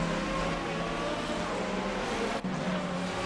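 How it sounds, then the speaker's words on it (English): A Lamborghini Murcielago R-GT V12 race car in Assetto Corsa gives a steady, loud, high-pitched engine wail heard from outside, holding a constant drone with a brief dip around a gear change. "that Lambo V12 sounds pretty great if you ask me"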